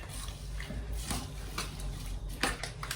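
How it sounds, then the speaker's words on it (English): A spoon stirring hot sauce in a pot on the stove, with a few sharp metallic clinks and scrapes against the pot over a steady background hum. "I'm gonna turn this on and bring it to a boil, and I'm just gonna give this a stir."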